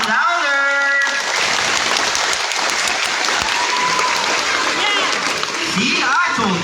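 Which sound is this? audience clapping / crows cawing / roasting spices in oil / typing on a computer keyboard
audience clapping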